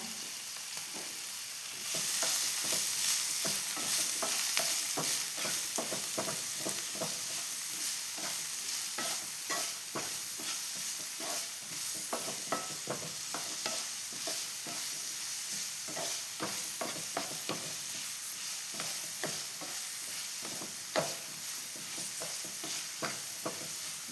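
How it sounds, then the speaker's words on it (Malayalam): A rice and egg snack mixture sautéing in a hot pan, continuous sizzling and frying with frequent scraping stirs of a spoon, close and steady without talk. "ഇതെല്ലാം കൂടി വഴറ്റട്ടെ"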